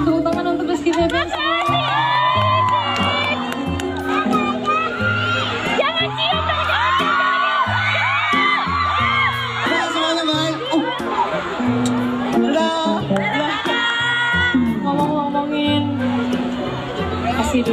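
A concert audience in Pontianak applauds and cheers, a dense, loud, sustained crowd roar with whoops and shouting voices layered over music throughout.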